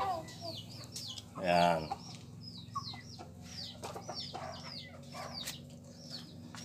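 Backyard pet chickens cluck in a scatter of short calls, with one louder burst near the start and some wing flapping, close by as someone speaks briefly.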